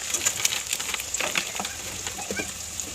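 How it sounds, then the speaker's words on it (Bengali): Whole green chillies fry in hot oil with onions, giving a steady close sizzle with light crackles and occasional stirring clinks, and no talking over it. "লঙ্কাটাকে হালকা করে তেলে ভেজে নেবে মা"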